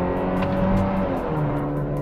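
A Mazda3 fitted with an AEM cold air intake accelerates hard, its engine note rising steadily from inside the car, loud and continuous with some road noise.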